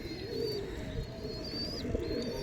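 A female pigeon in a rooftop loft coos in low, rolling murmurs over steady background noise, while thin high whistles or chirps sound faintly in the distance.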